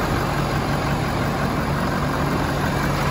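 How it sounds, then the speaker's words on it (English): A 2018 Ford F-250 XL flatbed with a Power Stroke diesel idles steadily, giving a constant, dense engine rumble and hiss at close range with no talking over it. "power stroke diesel engine."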